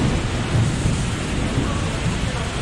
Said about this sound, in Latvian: Ir pērkons, ir lietus.